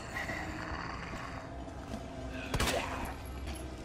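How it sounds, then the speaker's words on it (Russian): Gunfire in the Resident Evil 2 remake: a low game soundscape with a sharp burst of shots and impact near the middle, fairly faint overall, with no talk. "Стрельба прям как в семерке вот это вот."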